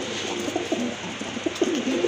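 Quality pigeons of an orange-coloured breed coo in short, soft bursts at close range, several repeated calls over a low background hum.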